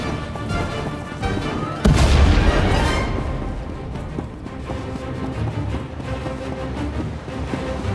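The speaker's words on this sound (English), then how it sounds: "Prepare to fire weapon on my command." Starship weapon firing in the sci-fi game Star Wars: The Old Republic, a loud booming blast that breaks out over a steady heavy rumble and then rolls on as a dense, noisy roar.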